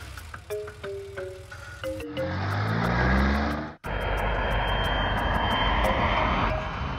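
A loud airplane engine roars up steadily, a droning propeller hum that swells and holds, with a brief cut partway through.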